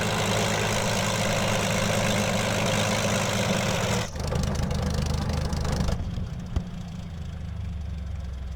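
A Curtiss P-40B Tomahawk's piston engine in Microsoft Flight Simulator idles with a steady low drone, then sputters and cuts out as the mixture goes to idle cutoff, leaving a quieter hum afterward.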